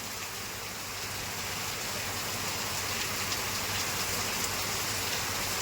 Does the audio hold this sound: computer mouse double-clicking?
no